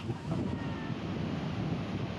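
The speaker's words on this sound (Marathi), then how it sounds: "लाटा अशा आदळत आहेत" Sea waves break against the embankment of a seaside temple on the coast near Ganpatipule, a steady broad wash of surf and wind noise that holds loud and unbroken throughout.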